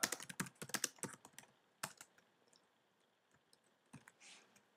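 Close, quiet typing on a computer keyboard: a quick burst of sharp key clicks, then a few scattered taps and a short pause before another clack.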